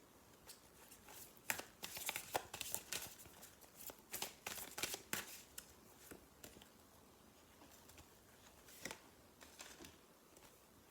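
Oracle cards shuffled by hand in close, irregular bursts of soft riffling and slapping patter, quiet and sporadic, with no voice over them.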